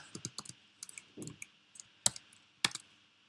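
Someone types on a computer keyboard nearby, a dozen or so quick, irregular key clicks with a couple of sharper, louder strikes, and no talking.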